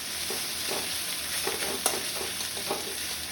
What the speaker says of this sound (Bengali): পেঁয়াজটা একটু লাল লাল লাল ভাজা হয়ে গেলে